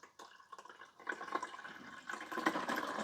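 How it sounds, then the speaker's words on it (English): Water pours into the reservoir of a Breville Grind Control coffee maker, starting with faint drips and rising into a steady, close trickle and splash. "Okay, so now let's load the water."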